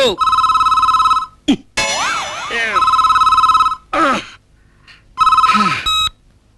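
A telephone rings loudly in repeated electronic bursts, broken by short gaps and a few warbling tones.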